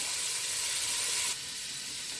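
Vegetables for a soup sizzle in a frying pan on a stovetop turned down to medium heat, a steady bright hiss that drops slightly in level partway through, with no talking.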